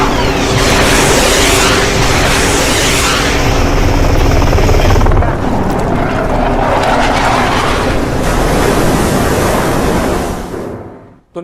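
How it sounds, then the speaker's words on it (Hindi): A US military helicopter flies over an Iranian ship at sea, its loud, steady rotor and engine roar filling the scene continuously and shifting partway through, with broadband wash like wind or surf beneath it. "हेलीकॉप्टर वहां पहुंचा ईरान के जहाज के ऊपर।"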